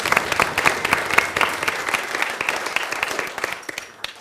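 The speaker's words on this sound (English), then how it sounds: "So a massive round of applause, and thank you for that." Wedding guests clap during the groom's speech, producing a lively round of sharp, close handclaps with scattered individual claps standing out, holding steady for several seconds before easing slightly.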